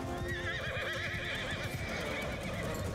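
Horses neigh and whinny in a Mount & Blade II: Bannerlord battle, several wavering calls stacked over steady hoof clatter, loud and close throughout with no talk.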